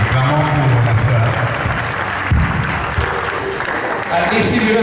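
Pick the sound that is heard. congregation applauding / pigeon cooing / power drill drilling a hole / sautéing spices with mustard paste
congregation applauding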